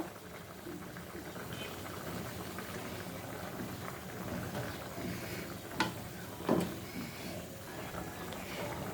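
Fish curry broth boils in a pot just after roasted cumin powder goes in: a continuous bubbling, burbling hiss with a couple of brief louder splashes or stirs near the end.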